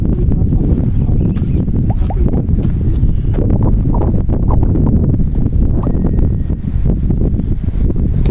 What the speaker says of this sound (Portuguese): Aqui tá ventando, aí fica ruim o vento